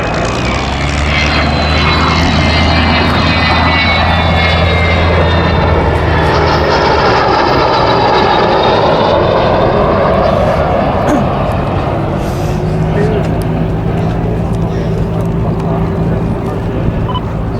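The Avro Vulcan jet bomber roars past at the Duxford September Air Show 2012, a loud, sustained engine rumble whose pitch slowly shifts as the aircraft passes, with crowd noise and some voices underneath.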